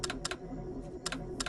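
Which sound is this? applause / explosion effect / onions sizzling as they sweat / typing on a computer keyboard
typing on a computer keyboard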